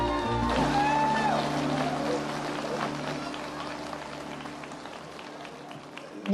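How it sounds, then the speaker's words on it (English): A conference audience at a Linux World event applauds a chair arriving on stage: dense, steady clapping from a large hall crowd, loud at first and slowly fading, with a whistle and a brief voice over the top early on. "These guys have to clap."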